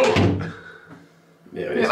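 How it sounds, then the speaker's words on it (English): A newly fitted interior door in a hallway being pushed shut, giving a solid thunk and brief rattle, close by, with people talking around it. "I'm just shutting the door."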